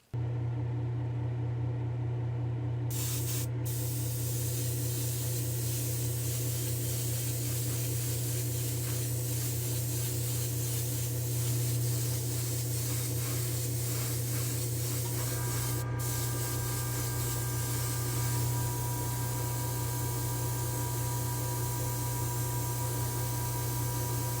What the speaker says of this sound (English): I think I'm gonna meet you in the spray booth. We're gonna paint the whole car white